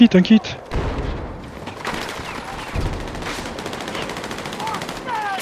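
Shotgun fire in the video game Battlefield 6, with game gunshots and a busy battle soundscape running throughout, including dense bursts of gunfire at moderate loudness.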